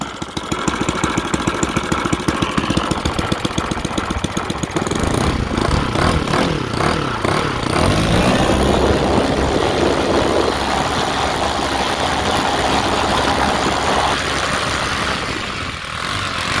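A Saito 150 model aircraft engine running on gas idles with a rapid, buzzy putter up close, its pitch and rhythm shifting slightly as it keeps running steadily.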